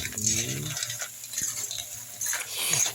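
A spoon stirs seashells cooking in a pot of broth with lemongrass, giving clinking, scraping knocks against the metal over a soft simmer, with a brief voice at the start.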